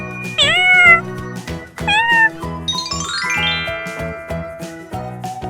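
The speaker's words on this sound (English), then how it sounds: "Cat." A cartoon cat gives two bright, close meows near the start, set over jingly chiming music with a rising run of tinkling tones in the middle.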